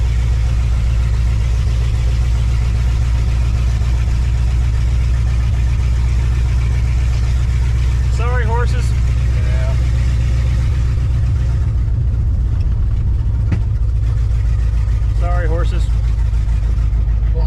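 A 1986 Ford F150 engine running at about 1,000 RPM, a loud steady low rumble heard from close by with people talking over it at moments.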